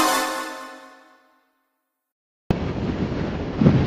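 A sustained tone fades into silence, then loud strong wind abruptly takes over, a rough continuous rumble buffeting the mic, heard while riding a Honda RS150R V3 motorcycle.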